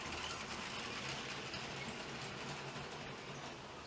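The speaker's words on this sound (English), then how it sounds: "that's a dual motor locomotive running by Brixx" A BlueBrixx dual-motor toy locomotive runs along a plastic brick track, a steady faint whirring and rattling that stays constant with no talk.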